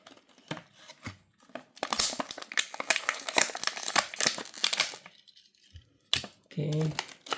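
Packaging for a CCA Lamborghini Aventador SVJ model car is torn open up close, with bursts of crinkling plastic and card, rustling and snapping, then a quiet pause and a final crackle, a voice briefly heard.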